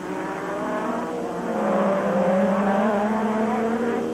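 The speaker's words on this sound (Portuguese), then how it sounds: "Vai fazendo girar alto o seu motor Porsche" A McLaren Formula 1 race car with a Porsche engine holds a high, steady rev, a loud sustained engine whine that climbs slightly in pitch midway.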